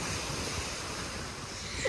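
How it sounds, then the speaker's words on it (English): Ocean waves wash in steadily with broadband surf noise and wind rumble on the microphone, fairly close, with a slight swell at the very end and no talk. "I got interrupted by these dumb stupid waves."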